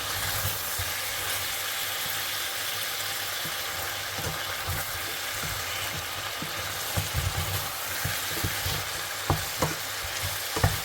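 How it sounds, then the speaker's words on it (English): A lamb chop sauce sizzles steadily in a hot pan while a utensil stirs it, with occasional scrapes and taps over the constant loud frying hiss. "So we're just gonna mix this together"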